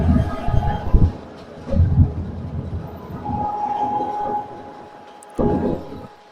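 Train engine moving along a station track during an engine change, close rumbling and clanking in uneven bursts with a steady mechanical drone between them and a sudden loud burst near the end.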